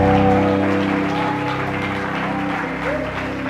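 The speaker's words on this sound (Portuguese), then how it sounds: "Aplauda Jesus!" Church congregation at a Portuguese-language family worship service applauding, dense clapping under a tonal musical backdrop, loud and sustained for a few seconds.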